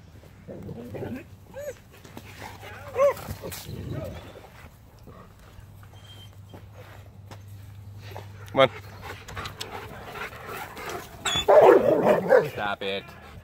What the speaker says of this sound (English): there's somebody else's dog right over there.